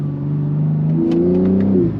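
A BMW G80 engine, modified, revs up and drops back in tone through manual downshifts, close and steady for two seconds with no voices.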